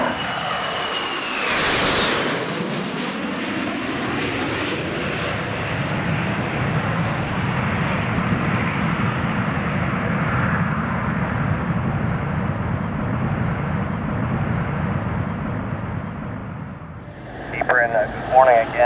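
A Ty Air Boeing 737 BBJ jet takes off at Zürich-Kloten airport, with a loud, sustained engine roar that sweeps past early, then holds as a broad rumble before a brief break near the end.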